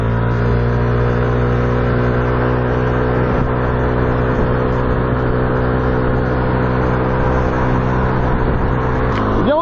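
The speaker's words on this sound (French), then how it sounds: "on apprécie tout de suite la réactivité du moteur, par contre il est un peu plus bruyant que celui du PCX" A Yamaha NMAX scooter accelerates on a French expressway, its engine holding a steady droning whine with rising pitch and heavy wind roar, loud and continuous from the rider's position.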